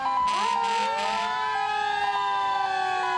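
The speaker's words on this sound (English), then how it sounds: "There's an E1 fire truck." Fire engine siren at a town parade in Cumberland, a loud, close wail with rising and falling tones and a brief air-horn blast near the start, continuous throughout with no talking.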